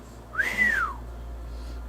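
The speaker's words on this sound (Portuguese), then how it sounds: "Rony deixou escapar um assobio baixo e longo" A single low whistle in an audiobook, a short tone that glides up and then down, heard alone and close against a quiet background.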